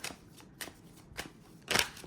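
Tarot cards shuffled by hand in short, crisp bursts, about four separate riffles spaced apart, with the last one the loudest, close up and otherwise quiet.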